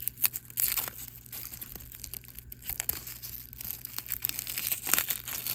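Papery skin being peeled and crinkled off sprouting, rooting garlic cloves, close up with a steady run of dry tearing and crackling and no talking.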